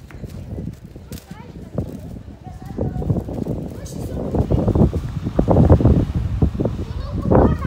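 Strong wind buffets the microphone while a kite is flown outdoors, with gusty rushing and rumbling that rise and fall and grow louder toward the end.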